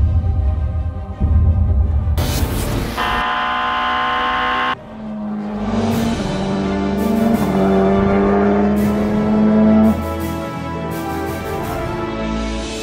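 Porsche 919 Hybrid Le Mans prototype race car, a complex hybrid machine, roars loudly up close, its engine note climbing through revs with shifting pitch and a sharp rise partway through, steady and dense to the end.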